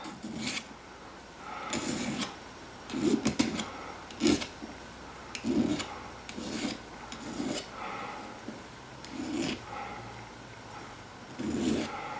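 A metal file rasps in steady, repeated back-and-forth strokes, removing burr from sawn metal edges, about a dozen scrapes with short pauses, close by and with no talking.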